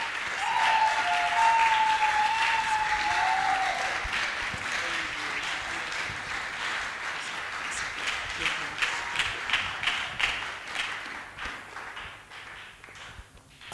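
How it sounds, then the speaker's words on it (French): A church congregation applauds loudly and at length. The clapping thins toward the end into distinct rhythmic claps, and a sustained tone rings over the early part. "Acclame encore très fort"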